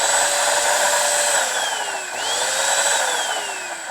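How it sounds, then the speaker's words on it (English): A Dirt Devil Platinum Force vacuum running with its brush roll spinning, a steady loud motor whine and broadband whir with gliding pitch shifts, close and continuous with no talk. "Nice little brush roll spinning."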